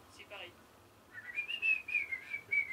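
A person whistles a wavering, high tune in short rising and falling phrases, clear and close, after a brief faint chirp at the start and with no talking.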